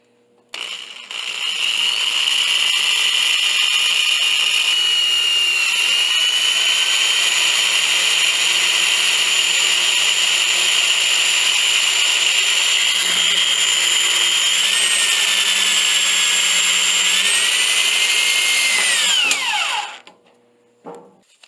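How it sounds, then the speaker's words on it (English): A power drill runs steadily for about twenty seconds, a loud, even high-pitched whine that shifts slightly in pitch near the end before stopping, as self-tapping sheet metal screws are driven into a heating duct register boot; no voices. "I use two self-tapping sheet metal screws to anchor the register boot in place, one on each side."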